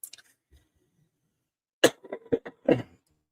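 A soft, brief cough comes first, then after a pause a few short bursts of speech, close to the microphone.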